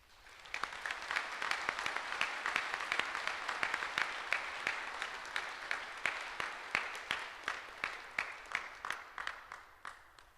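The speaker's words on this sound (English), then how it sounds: "Let's give a round of applause for these amazing people now" Commencement crowd applauding graduates at an Albany Area Schools ceremony, fairly distant but dense clapping that builds quickly, holds, then thins toward the end into scattered individual claps.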